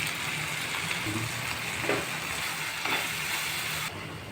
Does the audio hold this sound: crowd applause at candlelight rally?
no